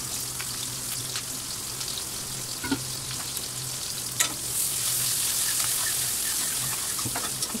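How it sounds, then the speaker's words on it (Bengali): Chopped onion and green chili fry in hot oil left from frying fish head, a continuous close sizzle with occasional clinks and stirring taps, the hiss swelling louder partway through; no one speaks. "এখন ওই তেলের মধ্যেই পেঁয়াজ, কাঁচামরিচ কুচি দিয়ে দিব।"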